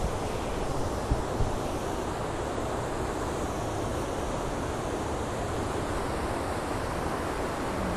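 Fast-flowing water of the Naran river rushing past at close range, a loud, continuous roaring wash that stays steady the whole time with no voices over it.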